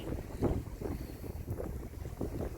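Wind gusts buffet the microphone in a continuous low roar, with rushing water and soft surges of a sailboat moving along on a broad reach, sailing between Zakynthos and Kefalonia.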